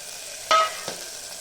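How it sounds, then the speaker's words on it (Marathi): Ginger garlic paste frying in hot oil for a paya soup, with a steady soft sizzle and a sharp burst of spatter as it hits, then a brief stir before the hiss settles back, close and alone. "अद्रक लसूणची पेस्ट टाकली. तेलामध्ये चांगली फ्राय होत होते."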